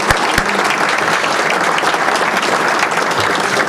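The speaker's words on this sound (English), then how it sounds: "Let's give a big round of applause for Laura and Sarah." An audience at a community meeting applauds in a steady, dense burst of clapping that fills the room, continuous and fairly loud, with no talk over it.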